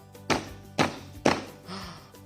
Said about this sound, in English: suddenly there was a banging at the door.